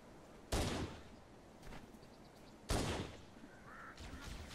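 Gunfire in Halo Combat Evolved, two distinct sharp bursts of shots a couple of seconds apart, fairly faint overall with quieter game sounds between.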